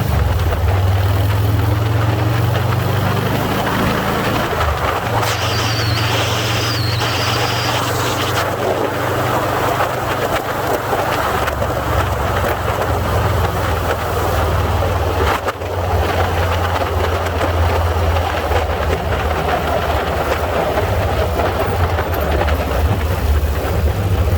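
A customized 2020 Harley Davidson Softail Standard motorcycle runs under throttle, its engine a loud, steady low rumble with a faint rising whine in the middle of the ride, mixed with continuous wind rush.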